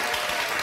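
Studio audience of a daytime paternity talk show clapping, a dense, loud burst of many hands filling the whole brief moment.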